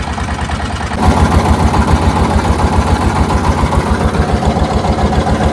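A trawler boat's engine chugs steadily and loudly as it turns into a canal, a low rhythmic thumping that rises in strength after the first second and then holds an even beat throughout.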